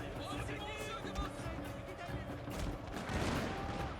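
Musket volleys in the video game Shogun 2, with crackling massed gunfire and battle noise that swells toward the end, a person talking over the din.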